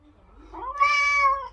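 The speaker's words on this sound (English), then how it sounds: "I found a giant cat." A big domestic cat lets out a single drawn-out meow up close, rising and then fading, with no talking around it.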